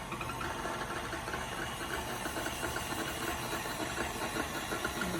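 An electric mixer whirs steadily through muffin batter, a continuous mid-level motor drone with a faint grinding texture and no voices over it.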